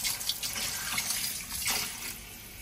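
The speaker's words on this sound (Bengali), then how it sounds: "এবার আমি অ্যাড করে দিচ্ছি পরিমাণ মতো পানি।" Water poured into a pan of fish curry with pomfret, a steady close gushing splash lasting a couple of seconds, fairly quiet and alone.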